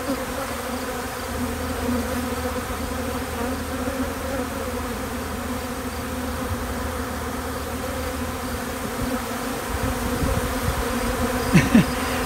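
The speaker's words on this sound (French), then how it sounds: "Fait qu'on regarde un peu le comportement des abeilles." Bees buzzing around a hive, a dense continuous drone of many insects close by, steady in level, with a few louder passes near the end.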